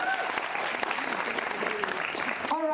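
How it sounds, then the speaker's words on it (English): An indoor audience at a women-in-business event claps in a dense burst of applause that fades out after a few seconds, and a voice begins briefly at the end. "Then give me a round of applause, y'all."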